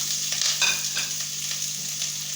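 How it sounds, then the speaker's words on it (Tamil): Onion and green chili frying in hot oil with bay leaf, cinnamon, cloves and fennel, a dense steady hiss with a few soft stirring clicks, close by and with no voices. "இப்போது இந்த வெங்காயத்தையும் மிளகாயையும் கொட்டி இதில் ஃப்ரை பண்ணிடலாம்."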